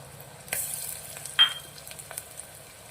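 Soft, steady sizzling of onions sautéing in a pan, with a few scraping stir sounds and one brief sharp clink partway through.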